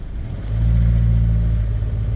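A car passes close by in street traffic, a low engine rumble swelling after a moment and holding steady, loud with no talk.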